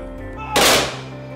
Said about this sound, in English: guard performed a rifle salute